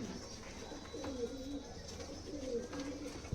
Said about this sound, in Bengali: এত সুন্দর ছটফটে কবুতর